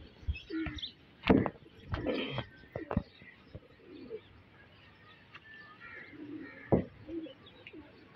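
Pigeons coo and flutter in short scattered calls, near and moderately loud, with soft rustles and a few sharp knocks between them.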